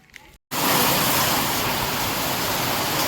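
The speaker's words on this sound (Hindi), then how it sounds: "इधर पानी बहुत गिरने लगा यार, देख सकते हो" Heavy rain pours down as a dense, loud, steady hiss that starts suddenly after a brief quieter moment with a short silence, then continues unbroken to the end.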